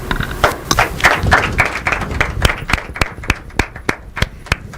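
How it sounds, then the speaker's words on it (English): Scattered audience clapping for the judges at an inter-collegiate quiz and debate competition, a loose burst of hand claps that thins into sparse, separate claps, close and fairly loud. "Is that the way you clap for our judges?"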